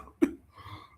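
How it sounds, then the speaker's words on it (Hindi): A single short cough, close and fairly loud, followed by soft breathy noise, during a poetry recital. "खांसी ज्यादा हो रही"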